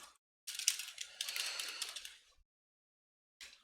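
Quick run of close computer keyboard typing while entering code, a dense two-second flurry of clicks, then silence and a brief final burst of keystrokes.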